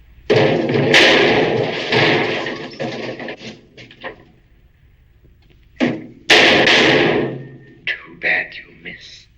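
Sharp gunshot-like bangs from a 1948 film come in two loud bursts, each followed by smaller knocks and thuds.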